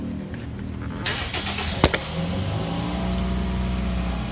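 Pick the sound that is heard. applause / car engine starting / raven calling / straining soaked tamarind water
car engine starting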